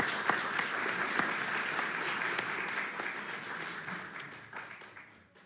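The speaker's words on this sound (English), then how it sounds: "And an applause of support." A congregation applauds during a worship service. The dense clapping is moderately distant and fades gradually toward the end.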